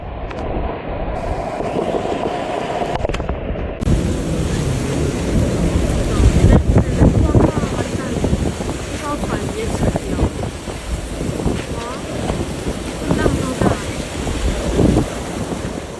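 Typhoon Danas lashes Tainan, Taiwan, with 148 km/h winds and flooding: a loud, continuous roar of wind buffeting the microphone, swelling in gusts and mixed with rushing, splashing water noise throughout.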